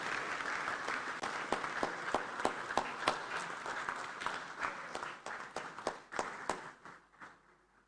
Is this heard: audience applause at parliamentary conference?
yes